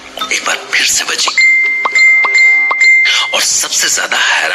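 Phone message notification bells ding several times in quick succession, bright tones sounding between stretches of a voice talking.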